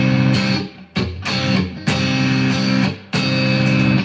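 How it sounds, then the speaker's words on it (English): Overdriven electric guitar with a little reverb: a handful of loud, buzzy distorted chords strummed in a loose rhythm, each ringing out before the next stroke. "This is overdriven."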